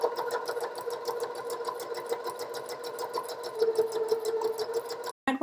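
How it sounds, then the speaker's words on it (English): A sewing machine stitches around the neckline facing edges of scrubs in a fast, even rhythm of needle strikes, running close and steady for about five seconds with a brief stop near the end. "So just start sewing."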